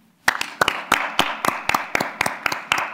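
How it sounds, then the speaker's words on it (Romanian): Live audience clapping at a Romanian public talk, sharp claps starting after a brief silence and settling into a steady, fairly even rhythm of about three claps per second, close and moderately loud, with no voices. "Să-i aplaudăm pe dumnealor?"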